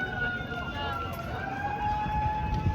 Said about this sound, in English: there's nothing I can do about the siren, but hey, who cares?